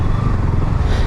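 Yamaha R15 V4 motorcycle being ridden, a loud, close, steady engine drone with rumbling low end and wind noise, no pauses in the brief stretch.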